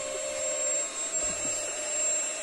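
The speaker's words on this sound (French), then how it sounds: "met en route l'aspirateur sans faire exprès" A vacuum cleaner switched on by accident produces a steady, fairly quiet motor whine with a high tonal hum, running continuously with slight swells in level.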